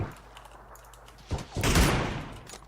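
Gunfire in a shooter video game breaks out partway through as a dense, loud burst that swells and lingers, following a quieter stretch, with no talk.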